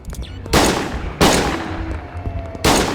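Three loud, sharp gunshots ring out in the video game Schedule 1, spaced irregularly across a few seconds. Each blast is followed by a lingering echoing tail over a low background rumble.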